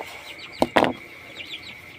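Chickens cluck nearby, with a couple of short, abrupt clucks standing out over soft chirping and faint background noise.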